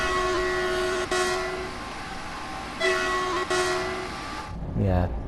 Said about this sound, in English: The horn is ridiculous though on this train.